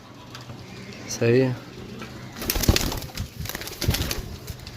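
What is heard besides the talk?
golden pigeons cooing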